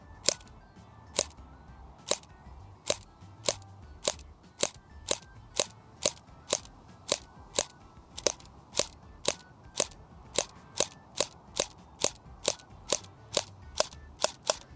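Single shots from a firearm fired one at a time at a Blackview rugged phone during a durability test, about twenty-five sharp, loud cracks spaced roughly half a second apart in a steady, evenly paced series with no talking.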